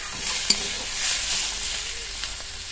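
Leafy greens sizzle steadily in oil in a hot pan, with a few soft clinks and scrapes of stirring.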